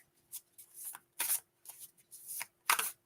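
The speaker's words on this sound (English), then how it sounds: "I have my cards. What I'm going to do is just shuffle them." A deck of cards is shuffled by hand, with several quick riffling bursts in a rhythmic series, close and fairly quiet, with no talking.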